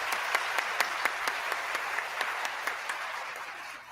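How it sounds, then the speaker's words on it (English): A cameraman claps steadily after a debate speech, a rapid run of sharp hand claps over a bed of broader applause or room noise, fairly close and continuous. "I appreciate the cameraman's enthusiasm, but he probably shouldn't clap."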